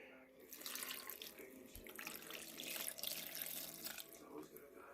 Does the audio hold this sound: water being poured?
yes